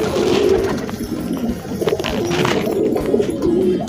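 A pigeon coos near its eggs at a home nest: repeated low, throaty coos, close and clear, over a soft background rustle.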